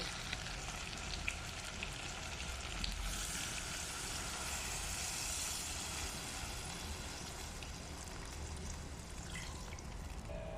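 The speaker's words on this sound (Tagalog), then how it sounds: "Kumukulo na siya." Steady bubbling and sizzling of a pot of chicken tinola soup boiling on the stove, a continuous dense hiss with faint pops throughout, no voices.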